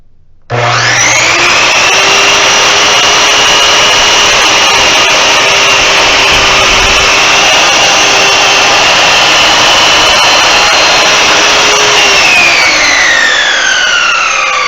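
A Chicago Electric 10-inch sliding compound miter saw spins up and cuts through a piece of wood, a loud steady whine that holds for about twelve seconds before winding down, with no talking.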